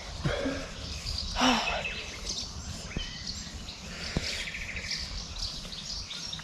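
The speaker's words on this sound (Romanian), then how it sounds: "cum se aud păsărelile aici" Small birds chirp and tweet around a campsite, scattered short calls near and far over a steady broadband outdoor background, with a louder burst of song early on and faint insect-like buzzing.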